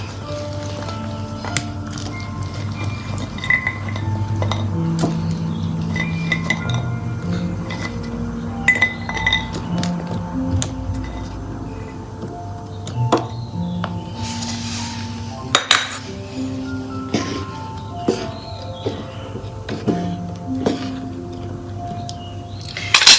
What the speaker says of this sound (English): I can now add our murungai.